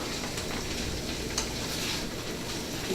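Pork with onions and peppers sizzling steadily in a hot pan, a continuous close frying crackle with occasional stirring scrapes throughout.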